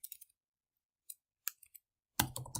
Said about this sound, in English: you can actually start typing into the document